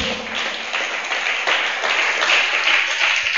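A church congregation gives faint, scattered applause, a thin, continuous patter of clapping heard close and steady throughout.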